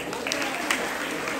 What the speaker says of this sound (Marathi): महिलांसाठी जोरात टाळ्या